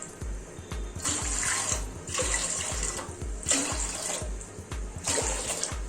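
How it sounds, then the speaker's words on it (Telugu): Six glasses of water poured one after another into a pot, each pour a bright splashing gush lasting about a second with brief gaps between, alongside a low rhythmic background hum. "ఇప్పుడు ఒక గంజు తీసుకొని అందులో 6 గ్లాస్ వాటర్ పోసుకోవాలి."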